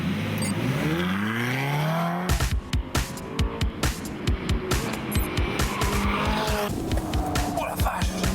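Ferrari California on the road, a rising engine sweep through the gears, then a run of rapid tyre chatter and revving bursts, loud and close with the engine dominating.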